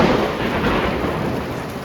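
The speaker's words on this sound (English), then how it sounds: "That's what South Dakota thunder sounds like." A deep, rolling rumble of South Dakota thunder over steady rain, loud and sustained without a break.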